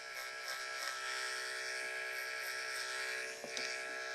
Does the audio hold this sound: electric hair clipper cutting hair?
yes